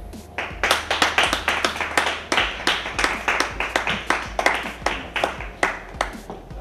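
A group claps together on the set of an Indian TV serial shoot, sharp hand claps repeating in a steady, even rhythm for several seconds, fairly close and clear with no talking over them.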